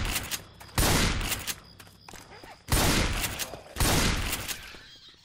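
Bursts of gunfire in the Left 4 Dead 2 video game as zombies are shot: several loud, dense volleys separated by brief lulls, with quieter game effects in between.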